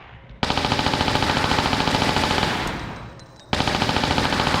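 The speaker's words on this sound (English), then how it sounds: "Take your Uzis out." Dual Uzis fire in Tomb Raider 4: The Last Revelation. Loud rapid automatic bursts come in a rattling stream, fade and pause briefly, then a second burst starts abruptly at full volume.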